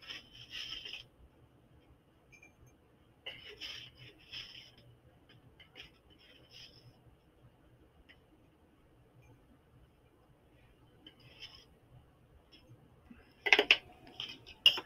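A metal scoopula scraping and scooping solid ammonium chloride pieces at a lab bench, faint intermittent rasping scrapes and clinks in short clusters, with a louder clatter near the end.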